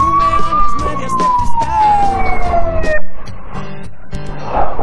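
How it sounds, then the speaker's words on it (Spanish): An ambulance siren wails with a pitch that slowly falls as it passes, loud over heavy traffic and engine rumble, then fades into the street noise. "Hostia, una ambulancia"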